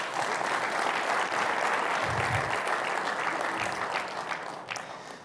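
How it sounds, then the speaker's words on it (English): An audience at an aviation development conference applauds its host partners, steady dense clapping throughout that fades slightly toward the end, with faint crowd murmur mixed in. "can I please have a round of applause for our host partners?"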